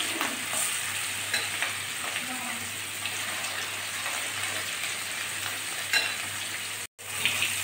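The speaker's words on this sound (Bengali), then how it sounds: "মাছগুলো লাল করে ভেজে নিয়েছি" Katla fish pieces coated in ground spice paste fry in a pan with a dense, continuous sizzle and spatter, heard close with occasional stirring scrapes and a brief dropout near the end.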